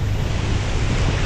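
Wind blowing hard over a cyclist's action camera on a city workday in Vienna, a steady loud broadband rush with low rumble throughout, no voices.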